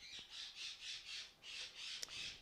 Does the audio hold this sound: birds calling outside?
yes